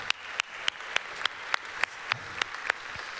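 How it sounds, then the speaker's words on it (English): At a banquet, sparse applause sounds as about a dozen distinct claps in a steady rhythm, fairly close and sharp, with a quiet room in between and no talking. "Let's give a big round of applause to Awesome Catering."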